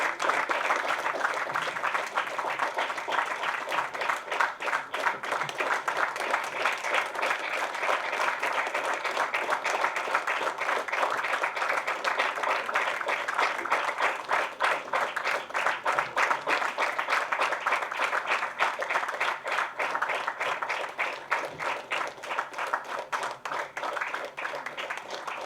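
Audience applause at an award ceremony honouring people for social welfare work: dense, steady clapping from a large crowd, sustained at even loudness throughout with no voices over it.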